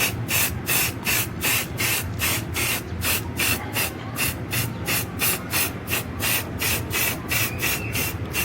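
A spray paint can lays light coats onto an old engine valve cover in steady, evenly spaced hissing bursts, close and loud, with no talk.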